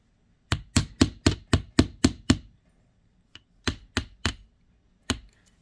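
Small metal hoops are struck with a hammer in quick, sharp, ringing blows, first a fast run of about eight, then a pause and a shorter burst of three, with a final lone strike, all close and clear.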